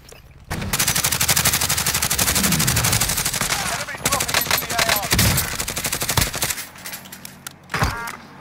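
Rapid automatic gunfire bursts in a Call of Duty Modern Warfare Plunder match, loud and dense for several seconds, then broken into shorter volleys and single shots near the end.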